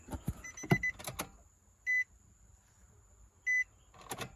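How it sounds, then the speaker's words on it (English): A vehicle's ignition key being cycled while the engine is not getting fuel, with sharp close solenoid clicks and two short electronic beeps separated by quiet pauses. "Turn it over like, cycle the key like 4 or 5 times."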